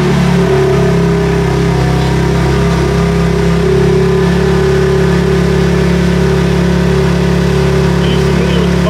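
A loud BMW G80 M3 engine runs steadily close by, humming and rumbling with a slight rise in revs.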